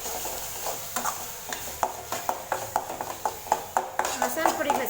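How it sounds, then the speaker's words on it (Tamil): Spice powders sautéing on a low flame for a meal maker (soya chunks) kulambu, heard as soft repeated scraping and stirring taps against the pan in a steady rhythm, close and moderately quiet. "மசாலா பொடிகளை சேர்த்துட்டு 1/2 நிமிஷம் லோ ஃப்ளேம்லேயே வதக்கிட்டுக்கலாம்"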